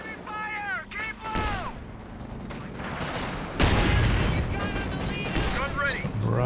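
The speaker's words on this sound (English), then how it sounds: "barrage from downtown" An artillery barrage and gunfire in Company of Heroes 2 pile into a dense rolling rumble of blasts, with one heavier boom midway, under chirping whistles and chatter of in-game voices and radio.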